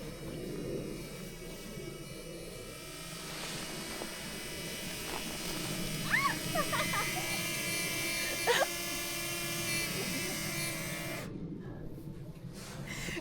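A small camera drone hovers about ten meters up during a vlog in Quebec, giving off a steady, thin electric buzz that runs through the whole stretch, with brief voices heard faintly underneath.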